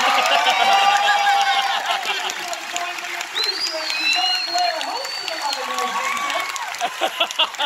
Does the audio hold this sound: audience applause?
yes